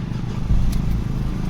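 A Ford Everest automatic engine cranking into life and settling into a steady low idle rumble, close and fairly loud, with a faint brief click partway through.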